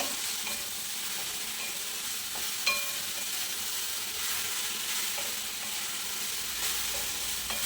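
Okra and onion sizzle steadily in a hot pan for several seconds while a spoon stirs them, scraping now and then. The frying noise is close and continuous, with no voices.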